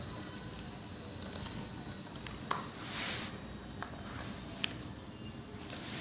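Sparse, scattered keystrokes on a computer keyboard, faint and close, tapping irregularly over a steady background hiss with no talk.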